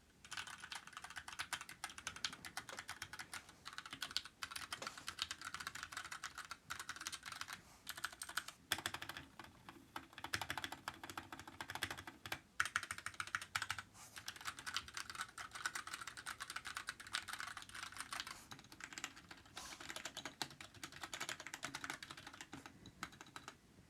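Steady, brisk typing on a keyboard fitted with G.Skill Crystal Crown keycaps over brown switches, with clipped stabilizers and unlubed keys, clicking continuously and alone at close range for the whole stretch.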